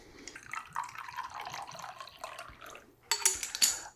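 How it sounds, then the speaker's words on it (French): Vinegar poured into oil for a dressing in a kitchen, a soft liquid trickle running steadily, then a brighter clink and splash of glass or utensil near the end, close and fairly quiet. "Je vais venir mettre mon vinaigre."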